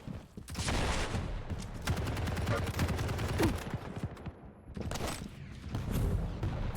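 Rapid rocket launcher fire and explosions fill a Quake match, a near-continuous barrage of loud booms and bursts with short gaps, layered over dense game action.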